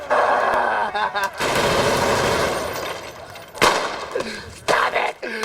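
Bursts of loud gunfire ring out in a played clip, rapid volleys and single sharp shots with pauses between, and a voice shouts among them.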